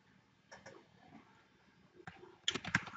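Someone types a folder name on a computer keyboard: a few faint, scattered key clicks in a quiet room, with a short cluster of sharper taps near the end.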